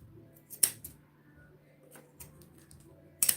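Scissors snipping through fabric while a bag is being made, with two sharp close snips about three seconds apart and faint handling noise between them.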